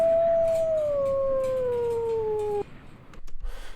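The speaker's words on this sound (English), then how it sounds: "So here's my wolf." A single sustained wolf howl used as a sound effect, a loud gliding tone that slowly falls in pitch for over two seconds before cutting off, leaving faint background noise.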